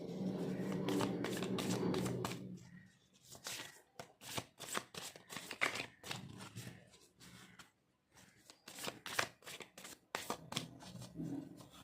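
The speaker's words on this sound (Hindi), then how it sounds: "अभी हम इस डेक से देखने वाले हैं कि गणेश जी को क्या कहना है आपसे।" A tarot card deck being shuffled up close, with quick rhythmic riffling bursts and short pauses between them, after a low murmur at the start.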